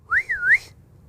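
Computer-generated whistle imitating a dolphin call, a single clean tonal sweep that rises, dips and rises again in pitch, brief and fairly quiet over faint low background hum.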